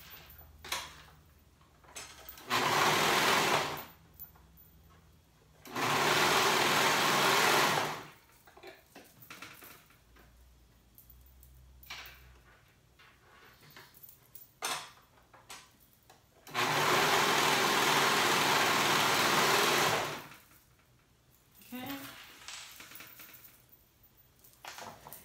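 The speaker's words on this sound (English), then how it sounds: "I'm gonna go ahead and sew those shoulder seams together." A sewing machine stitches the shoulder seams of a top, running in three long steady bursts separated by quiet pauses with small handling clicks, close and fairly loud.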